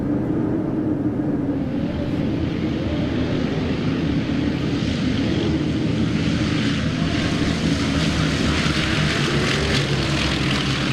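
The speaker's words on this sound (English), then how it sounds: "As Captain Mellion powers up the 4 massive engines" Four massive engines of a B-24 Liberator heavy bomber running up together, a steady, loud droning roar with layered propeller hum holding throughout, no voices over it.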